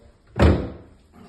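Dishwasher door shutting in a kitchen, a single close, solid thud followed by a short fading rattle, with no talk over it.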